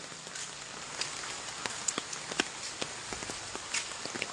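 Footsteps on a wet, damaged road in Vizhinjam during rain: soft irregular taps and splashes over a light hiss of falling drops, fairly close and quiet, with no talk.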